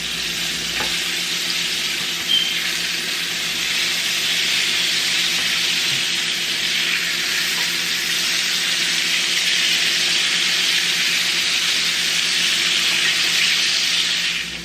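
Fillets of whitey fish fry in hot oil with a loud, dense, continuous sizzle and crackle that holds steady throughout, up close and with no talking.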